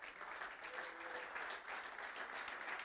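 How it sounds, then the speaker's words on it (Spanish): A church congregation claps loudly and steadily for the Lord during a Spanish-language sermon, a dense, continuous wash of applause with no break. "Denle un fuerte aplauso al Señor."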